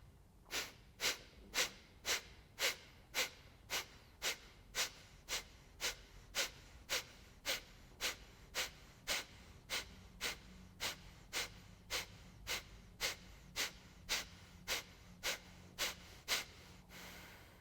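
Breath of Fire breathing from a yoga practice: a round of about thirty sharp, forceful nasal exhales in a fast, even rhythm, close and clear over quiet background.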